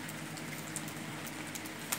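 Rain falling around a house during a mulberry leaf harvest for silkworms makes a steady, soft hiss dotted with scattered light drop taps, with no voices.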